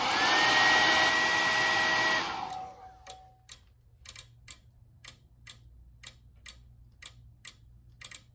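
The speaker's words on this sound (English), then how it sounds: "We use a hair dryer." A hair dryer blows on the heat detector of a Gamewell Identiflex 610 fire alarm system: a steady loud whooshing roar for about two and a half seconds cuts off, then evenly spaced ticking clicks follow alone.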